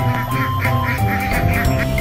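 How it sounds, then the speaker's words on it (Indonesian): A duck quacks in a rapid run of short, nasal calls, close and fairly loud, over a low background drone. "Ini namanya bebek."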